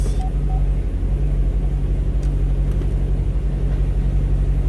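A 2013 Chevrolet Camaro's 6.2L V8 with six-speed automatic idles steadily while parked on the brake and shifted through the gears, a constant low rumble and hum with no clear change in pitch.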